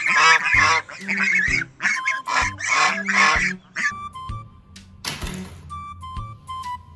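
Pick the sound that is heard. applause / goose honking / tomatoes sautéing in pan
goose honking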